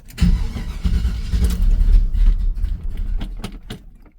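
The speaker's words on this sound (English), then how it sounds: "Let's see how quick it starts," A 1978 Chevy C10 pickup truck engine cranks and catches, giving a loud, rough, continuous low rumble with a few sharp clicks and knocks as it sputters into running.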